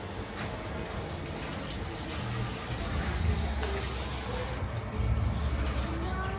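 Running water sprays and hisses steadily into a container as peas are washed for Jamaican stew peas with pigtail, a continuous gush with faint shifts in tone and a brief change near the end.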